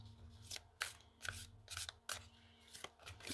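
Tarot cards stacked by hand into piles, sorted greens then reds, giving several short crisp rustles and slaps of card on card at close range, each separated by brief pauses, with no voices.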